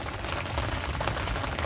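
Cold rain falls steadily at a fishing spot, a dense, even hiss of drops on surfaces heard up close for the whole stretch, with no talking.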